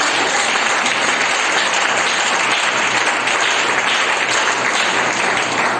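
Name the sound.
congregation applause and acclamation for God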